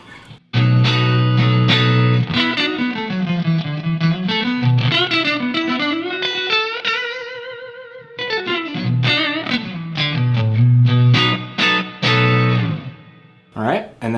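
A Stratocaster with Texas Special pickups plays through an amp edging into mild breakup with the Blackstar LT Distortion pedal switched off, a close, sustained melodic line with bends and slides, loud and alone, ending on a held note.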